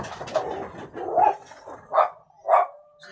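Several dogs bark in a row outdoors, four loud nearby barks with short gaps between them, and a faint bird call in the background.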